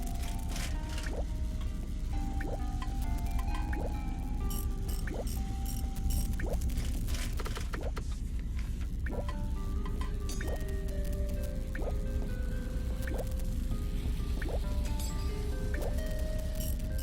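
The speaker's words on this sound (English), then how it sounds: "I could hear water flow through the pipes to another part of the building" Water gurgles and drips through pipes inside a building in the video game Little Acre, a steady trickling flow with scattered droplet plinks and squishy liquid sounds, continuous and fairly close, no talking.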